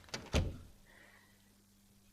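A thudding door opening in the horror game Post Trauma, one sharp loud knock after a softer lead-in, then a faint mechanical hum fading out, with no talking.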